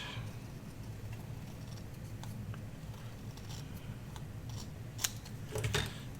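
Scissors trimming the edge of a 12x12 sheet of craft paper, quiet snips over a steady background hum, with a couple of sharper cuts near the end.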